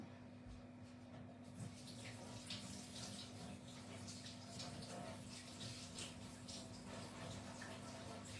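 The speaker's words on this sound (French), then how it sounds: "Mais je vais me rincer les mains avant." Running tap water splashes steadily as hands are rinsed at a kitchen sink while making pumpkin pie dough, a soft continuous wash heard close by.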